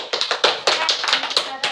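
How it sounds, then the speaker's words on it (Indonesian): A few classmates clap for a student in a classroom: a short, close run of sharp, uneven hand claps, bright and brisk, lasting under two seconds with no talk over them. "Tepuk tangan untuk saudara"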